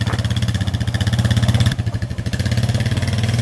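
A four-wheeler ATV engine runs close by in mild weather, with a steady low throbbing idle and a short dip in the middle before it settles back to an even putter.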